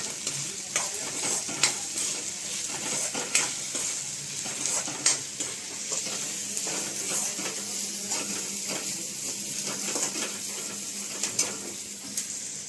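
Potatoes sauté slowly in a pan, giving a steady close sizzle with frequent scraping and stirring clicks of a utensil against the pan.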